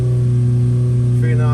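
Built 930cc engine running on a dyno under load, a loud close steady drone with a strong low hum and a slight rise in pitch near the end.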